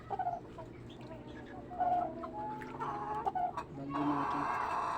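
Young pet chickens, about five months old, clucking repeatedly at close range in a backyard, with short overlapping calls and a steady low background murmur.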